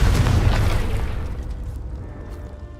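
Confringo explosion spell in the video game Hogwarts Legacy: a single loud, close boom that bursts at once and then fades away over a couple of seconds.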